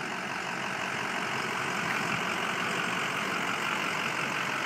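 A 2006 Ford F350 Lariat with a 6.0 turbo diesel and four-wheel drive idles steadily, a dense even broadband rumble and clatter held at constant loudness, close by with no voices.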